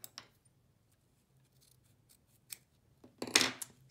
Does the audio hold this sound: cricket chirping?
no